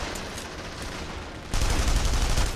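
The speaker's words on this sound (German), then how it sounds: "Die schießen ja überall!" Dense, continuous gunfire from all sides in the video game Saboteur, a steady roar of overlapping shots that gets louder and heavier partway through, with no voices.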